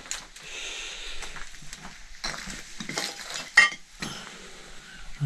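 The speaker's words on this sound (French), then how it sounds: "Un peu de vaisselle ici." Old dishes being shifted about in an abandoned holiday centre give scattered, faint clinks and knocks of crockery, irregular and close, in an otherwise quiet room.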